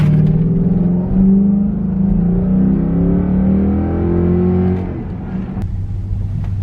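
A Dodge Durango Hemi fitted with a K&N cold air intake accelerates hard, its loud engine roar rising and climbing through the gears close by before easing into a lower rumble.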